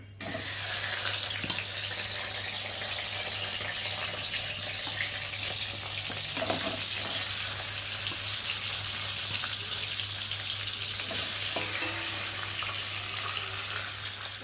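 Fish heads frying in hot oil give a steady, loud sizzle throughout, with faint clinks and a watery splash near the end, and no one speaks.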